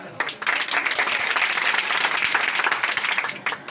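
Students and teachers at a monthly Bazm gathering at GHS Opal Shangla break into dense, continuous applause after a Class 10 pupil's English speech, the clapping filling the hall evenly before tapering slightly at the close.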